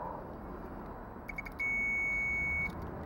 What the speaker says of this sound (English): You want to touch the two together and make sure that it beeps.